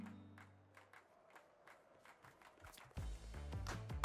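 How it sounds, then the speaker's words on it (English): Upbeat video game music from Soccer Story built on a rhythmic clapping beat, quiet and regular at first, then fuller and louder as bass and other instruments join. "listen to that upbeat clappy clap music"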